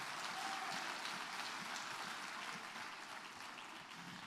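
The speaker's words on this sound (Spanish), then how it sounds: "Dale un fuerte aplauso al Señor." A church congregation applauds during a Spanish-language sermon, steady dense clapping that holds at an even level throughout with no break and slowly eases slightly toward the end.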